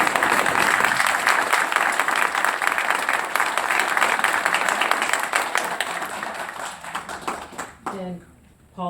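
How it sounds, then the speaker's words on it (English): Applause fills a school board meeting, loud and sustained clapping with some voices mixed in, then tapering off near the end before a short quiet gap. "I'm gonna break with decorum and give her applause"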